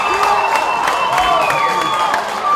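A Palauan crowd at a 2017 Micro Classic baseball championship game against Guam cheers and claps loudly and steadily after an inning-ending catch, with a commentator talking over the roar.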